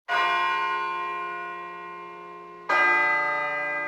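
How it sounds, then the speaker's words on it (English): A bell in the video game Persona 3 Portable rings out loud and alone with a long, slowly fading chime, then strikes a second time near the end and rings on. "It sounds like a bell, but where's it coming from?"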